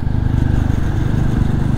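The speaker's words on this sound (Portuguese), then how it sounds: "eu quero mostrar aqui para vocês o desempenho da Classic 350 na rodovia" A Royal Enfield Classic 350 motorcycle rides on a highway, its engine a loud, close, steady low thump with wind and road roar, heard alone.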